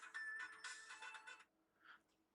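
A phone rings with an incoming call, a short electronic ringtone melody that is fairly faint, with a brief pause and then a softer tone.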